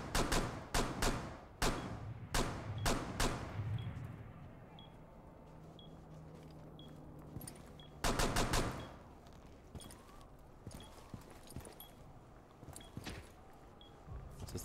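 Gunfire in the tactical shooter Rainbow Six Siege: several sharp, loud shots in quick bursts at the start, a quieter stretch, then another cluster of shots and scattered single reports, with faint game ambience between.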